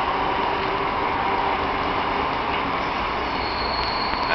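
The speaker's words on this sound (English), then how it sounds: "There goes the train." A train passes in the distance, heard as a steady broadband roar and rumble with a faint metallic squeal creeping in toward the end.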